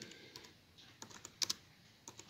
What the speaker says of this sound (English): So we type brew